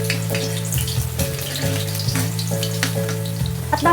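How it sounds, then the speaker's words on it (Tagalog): Garlic and onion sautéing in hot oil in a pan: a loud, continuous close sizzle with scattered pops and crackles and a faint steady hum beneath, with no talking. "At saka tayo maggisa ng bawang at saka sibuyas."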